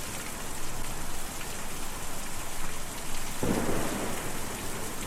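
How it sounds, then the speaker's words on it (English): A thunderstorm with steady, dense rainfall in the video game Kentucky Route Zero, a continuous wash of rain with a low rumble of thunder swelling partway through, heard alone without voices. "Difficult to see or even hear a storm like that."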